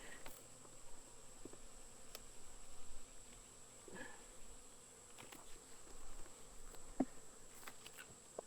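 Wild feral honey bees buzz around their hive in a faint, continuous hum, with individual bees droning closer now and then and no talking.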